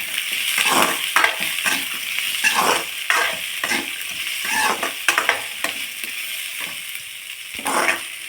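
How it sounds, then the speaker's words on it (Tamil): Four dried red chillies sautéed in a pan for a chutney give a steady, close sizzle, with repeated stirring scrapes and light clatter throughout and no talk. "இது எல்லாத்தையுமே நம்ம ஒன்றாவே வதக்கிக்கலாங்க"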